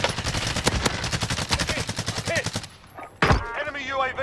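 Rapid automatic gunfire in Call of Duty: Warzone, dense bursts of shots for over two seconds, then a brief pause and a single sharp loud report followed by quieter battle noise.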